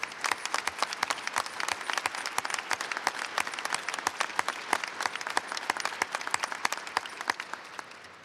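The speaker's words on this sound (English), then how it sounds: "If I could ask for a round of applause for the Ironman Squadron for putting this together." An audience gives sustained, dense applause for the VQ-3 Ironman naval squadron at a change-of-command ceremony. The clapping stays steady and fairly loud throughout, with no talk over it.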